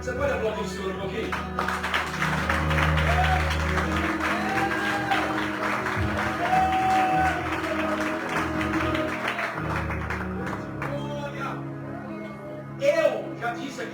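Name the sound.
congregation applauding the Lord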